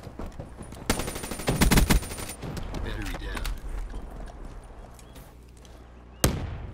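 Video game gunfire, a loud burst of rapid automatic shots near the start, scattered sharper shots afterward and a final single crack, with game effects and a voice talking in the background.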